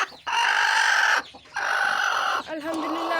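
Hens and their newly hatched chicks in a village chicken house make loud, close, near-continuous high peeping and clucking in two long stretches, separated by short dips.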